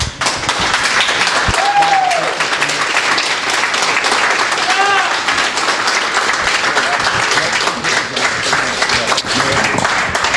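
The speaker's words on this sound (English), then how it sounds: "Now you may applaud." Audience at a 2014 House of Representatives District 55A candidates forum breaks into sustained applause, a dense wash of clapping that holds steady and loud for the whole stretch, with a few brief squeaks and thumps mixed in.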